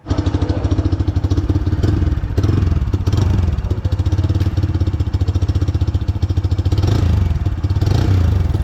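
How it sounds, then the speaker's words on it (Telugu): A Bajaj Freedom 125 CNG motorcycle engine idles and runs close by, a steady, loud, even mechanical thrum with a rapid pulsing beat and slight rises in revs, heard alone throughout. "ఈ బైక్ సౌండ్ అయితే సూపర్ అమేజింగ్గా ఉంది"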